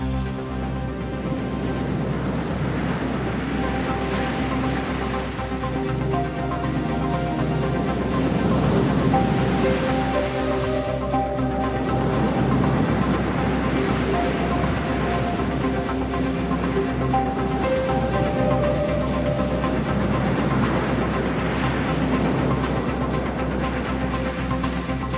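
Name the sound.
Chinese Coast Guard ships firing water cannons at Philippine boat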